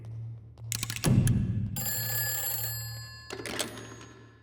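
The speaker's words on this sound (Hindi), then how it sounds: "वो फोन दिख रहा है ना, जाके कॉल करो।" A telephone rings in a room in a Hindi-dubbed horror comedy film: a muffled thump, then a loud electronic ringing burst, a pause, and another ring, with no voices.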